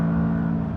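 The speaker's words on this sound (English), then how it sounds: "V8 is a little bit flat sounding," A McLaren V8 engine holds a steady, flat-toned drone at a fairly constant rev, loud and close for under a second with no voices.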